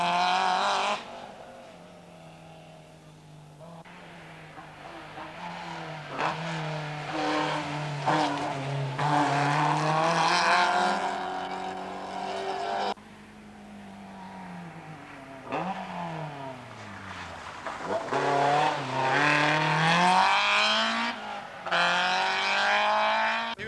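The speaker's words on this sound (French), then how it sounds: "En 30e position, Philippe Chabozeau sur sa BMW M3, 11e du groupe 1." A BMW M3 rally car at the 1991 Rallye Médoc races past, its engine revving hard and rising and falling through gear changes, loud and close for the whole stretch with no talk.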